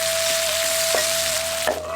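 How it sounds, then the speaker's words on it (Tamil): Curry leaves, sliced onion and green chillies sauté in leftover egg-frying oil, giving a steady close sizzle with a couple of brief stirring scrapes and no talk. "அடுத்து முட்டையை பொரிச்ச எண்ணெயிலே கொஞ்சம் கறிவேப்பிலை, நறுக்கு நார வெங்காயம், 2 பச்சை மிளகாய் கூட கொஞ்சம் உப்பு சேர்த்து வதக்கிட்டு"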